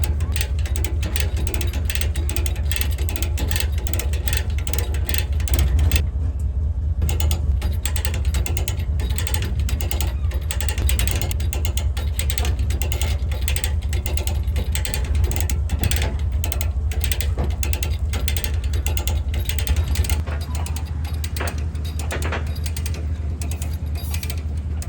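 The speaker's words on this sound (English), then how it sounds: "So hook this sucker up and start ratcheting it up onto the trailer." A rope come-along ratchets a Suzuki Samurai onto a trailer, its pawl clicking in a steady, close, rapid rhythm over a low background rumble, with one brief pause partway through.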